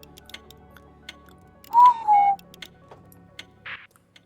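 A person imitates a cuckoo by voicing a two-part, train-whistle-like call, once and fairly loud, in the co-op puzzle game We Were Here Together, with faint clock-like ticking and a short later burst.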